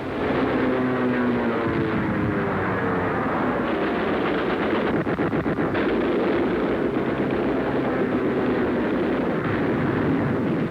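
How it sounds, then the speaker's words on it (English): Anti-aircraft fire and aircraft gunfire from a 1944 World War II aviation newsreel, a dense continuous roar of engines and bursts with rapid rattling fire in the middle, loud throughout without speech. "As the bombers weave through anti-aircraft fire, Thunderbolts, Lightnings, Mustangs go after the enemy with all guns blazing."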